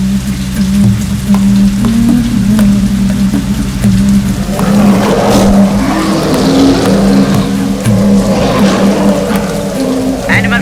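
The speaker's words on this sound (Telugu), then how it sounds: "సార్ ఇక్కడ ఒకటే వర్షం పడుతోంది సార్." Heavy rain pours down in a steady, dense hiss while a low engine drones underneath, with brief swells of rushing noise and no clear speech.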